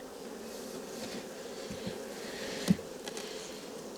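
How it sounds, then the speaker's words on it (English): Many bees buzz around an empty polyhive box in a steady, close drone that stays even throughout, with a small knock or bump near the end. "but lots of bees"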